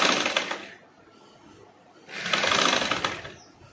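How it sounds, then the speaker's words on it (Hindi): A sewing machine runs in two close bursts of rapid stitching separated by a quiet pause, hemming a twice-folded lehenga lining. "फिर दोबारा ऐसा फोल्ड करके सीधा जो है स्टिच हम ले लेंगे"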